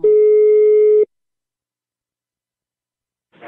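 A telephone line tone sounds once, a steady loud beep lasting about a second, then silence before a voice begins.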